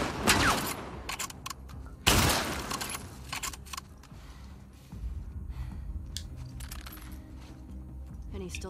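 Rifle gunfire in The Last of Us 2, a few sharp loud shots with clattering impacts, the strongest near the start and another burst about two seconds in, with a voice talking and quieter game sounds between.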